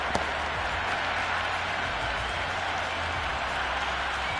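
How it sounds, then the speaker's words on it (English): A cricket stadium crowd at a T20 World Cup match between Australia and Zimbabwe in Colombo cheers and applauds, a dense continuous roar of clapping and voices with faint commentary underneath. "the crowd have joined the party. It's pretty noisy at the ground"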